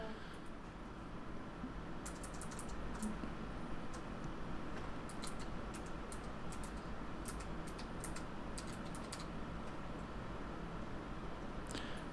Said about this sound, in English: likes to type keys really fast, and sometimes he makes mistakes